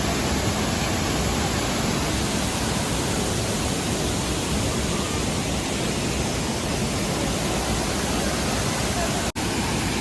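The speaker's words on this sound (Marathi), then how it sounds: "बघा हा व्ह्यू आहे धबधब्याचा" A constant, loud roar of rushing water from a waterfall in Konkan heard up close, unbroken for the whole stretch.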